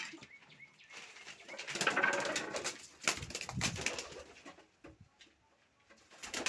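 Pigeons cooing close by with soft throaty calls, bursts of wing flapping and scattered chirps, rising and falling in intensity over several seconds.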